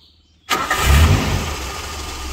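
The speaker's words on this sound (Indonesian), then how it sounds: "suara mesinnya masih halus" After a brief quiet, a used car's engine cranks and catches with a sudden loud roar, then settles into a smooth, steady close idle.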